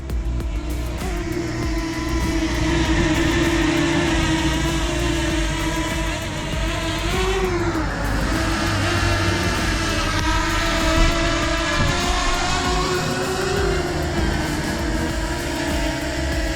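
A DJI drone flying back in to land in strong wind: a continuous close buzzing whine of propellers that rises and dips in pitch as it maneuvers, steady and loud throughout, with no talking.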